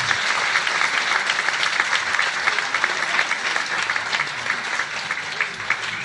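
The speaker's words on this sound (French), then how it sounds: "Donc on peut vraiment l'applaudir très fort parce que c'est quelqu'un de valeureux" An audience at an awards evening gives loud, sustained applause for Stéphane, a thick wash of clapping from many people that carries evenly all the way through.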